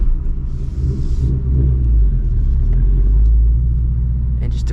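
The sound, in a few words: 2024 Ford Mustang GT engine rumble at startup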